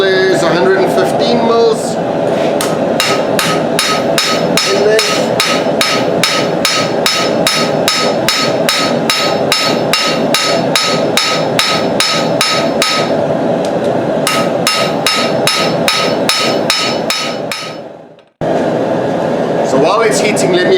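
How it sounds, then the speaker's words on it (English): A hammer strikes a hot steel knife handle as it is flattened on the anvil, loud, fast and evenly spaced blows repeating for many seconds with one brief pause, close and ringing. "As you hammer out the handle,"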